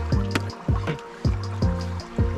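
Swimming pool water spills over into the skimmer in repeated gurgling, sloshing surges, about five rhythmic pulses close by with no talking.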